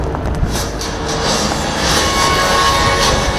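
HAL Light Utility Helicopter flying in an air display, a steady loud broadband engine and rotor roar with a rhythmic pulsing thrum, no voices.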